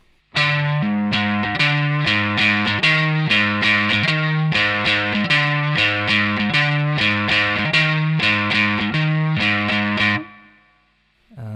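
Effects-laden electric guitar chugging a song's pre-chorus riff on the fifth string, notes evenly spaced and bright, close and loud, then cutting off at the end.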